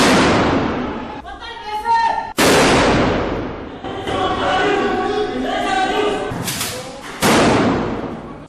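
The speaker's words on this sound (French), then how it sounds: "des détonations de fusils d'assaut coréens HK-47 de l'unité spéciale d'intervention de la gendarmerie" Several sharp, loud assault rifle shots crack through a hotel hall during a police and gendarmerie special intervention unit terror drill, with broadband blasts and echoing tails separated by gaps, under a speaking voice.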